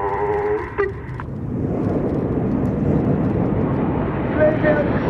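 Aerobatic display team jets roaring past at an airshow, a broad continuous rumbling roar that builds and holds loud throughout, with a brief whine early on and a commentator's voice underneath at the start.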